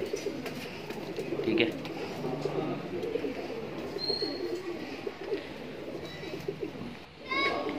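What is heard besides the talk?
Kaldume pigeons cooing in a loft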